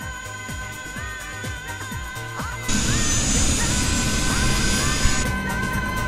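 Helicopter engines start up in the FSX flight simulator, a low rhythmic whine building before a louder, denser turbine roar kicks in and holds steady.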